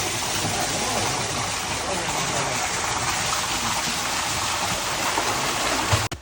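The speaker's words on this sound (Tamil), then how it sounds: "இந்த கிணத்துலேருந்து தான் தண்ணி வந்து தொட்டிக்கு போகுது." Water pours steadily from a well into a tank on a farm garden plot, a continuous broadband rushing gush that stays loud and even throughout before cutting off abruptly at the end.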